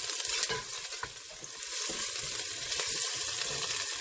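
Onions fry in a pan for a dumpling curry, a steady close sizzle with a few scraping stirs, and no one speaks.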